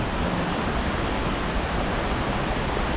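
Lone Creek Falls in Sabie roars with a dense, steady broadband rush of falling water, loud and continuous with no other sounds.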